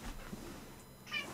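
A black cat gives a short, faint meow late in the moment, fairly distant amid low room noise, with no one speaking over it.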